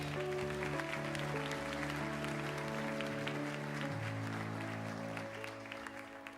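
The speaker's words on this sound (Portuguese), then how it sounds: "Quantos podem aplaudir ao Senhor?" A church congregation applauds during a Sunday worship service, a steady wash of clapping over sustained musical tones that carries on throughout and eases slightly near the end.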